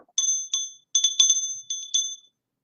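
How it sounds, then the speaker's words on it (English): A small bell jingles in a children's Janmashtami story, ringing in short bright bursts several times with quiet gaps between, clear and close against silence. "And the bell slowly went."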